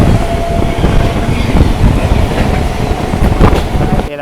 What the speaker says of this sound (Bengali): এক্সপ্রেস ট্রেন স্কিপ করছে সাইড দিয়ে।